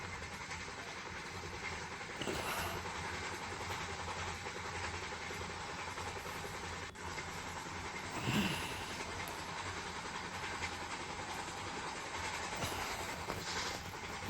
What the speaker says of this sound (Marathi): अजून एक फ्रेक ट्रेन आम्हाला क्रॉस करत आहे